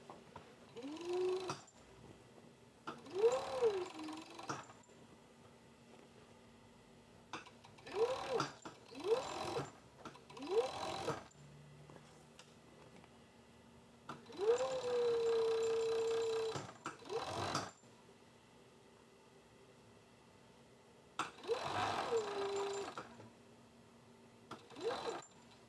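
A home sewing machine stitches a crotch gusset in short runs of fast whirring, several separate bursts with quiet pauses between them, close and clear.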